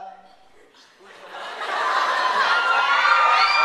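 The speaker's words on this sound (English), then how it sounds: "This crowd is crazy." A large audience at a stage show in Montreal, Canada, breaking into loud, building cheers and screams after a quieter moment, sustained and close, with a voice speaking over it at first.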